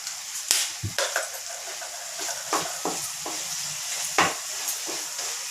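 Ginger garlic paste with a pinch of asafoetida fries in a pan, a quiet sizzle punctuated by irregular sharp scraping stirs of a spatula, close up.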